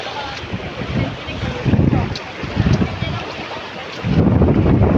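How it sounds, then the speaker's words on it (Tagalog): Strong sea wind gusts against the microphone in loud low rumbling bursts that swell and fade, close and rough, with background ambience between gusts. "Oh, malakas yung hangin."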